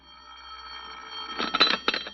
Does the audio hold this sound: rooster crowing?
no